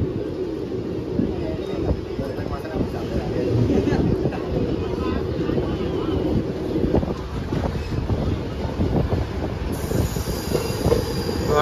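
The Saptagiri Express from Chennai to Tirupati rolls through the Basin Bridge junction with loud, continuous rumbling and clattering wheels, a high squeal of wheels on the curve, and wind buffeting the microphone.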